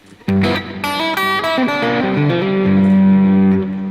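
An electric guitar played through a booster and distortion pedal rings out a short sustained phrase of overdriven notes and bends, loud and close, ending on a held chord.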